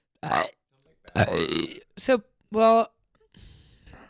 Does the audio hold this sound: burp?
yes